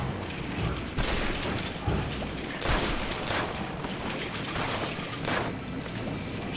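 Repeated gunshots from the Sam & Max adventure game, several sharp bursts spaced over a few seconds amid a busy, noisy game soundtrack, with no talking.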